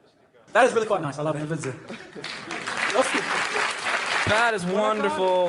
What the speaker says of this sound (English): The entire audience, those guilty of crimes against humanity, are all applauding.